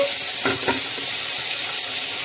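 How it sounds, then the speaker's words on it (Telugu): Cashews, watermelon seeds and masala fry in a pan, with dried coconut nearby, for a Rayalaseema-style brinjal dish. A steady close hiss of sizzling oil runs throughout, with a couple of soft stirring knocks early on. "ఇట్లా పెట్టుకున్న మసాలాలు మొత్తానికైతే కనుక ఇందులోనే మనము ఫ్రై చేసేద్దాము"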